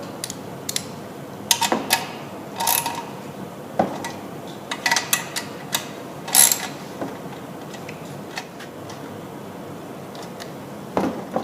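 Recoil bolts are tightened into the tin shroud of a small engine during assembly, heard as scattered close metallic clicks and ratcheting taps between quiet gaps.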